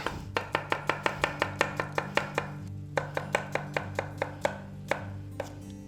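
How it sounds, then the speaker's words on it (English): An onion is chopped coarsely with a knife on a cutting board, about twenty steady, close knife strikes in a quick rhythm with short pauses, and no talking. "I'm going to chop the onion really quick. I'm going to chop it coarse, really coarse"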